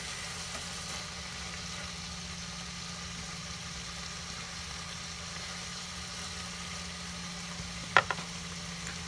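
Raw bacon frying in a pan while BLTs are made, giving a steady, soft sizzle throughout, with a brief clatter near the end.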